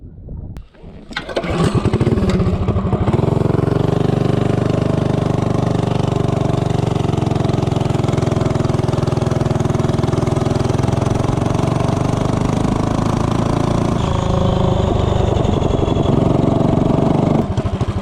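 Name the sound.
Tillotson 212 engine accelerating 0 to 30, long intake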